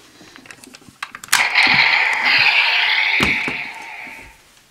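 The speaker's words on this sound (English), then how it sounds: "Then you get the summoning sound and the Griffon's cry." A PlaMonster Green Griffon ring toy clicks into place with a few plastic taps, then plays a loud electronic summoning sound and a shrill, sustained griffon cry that fades out.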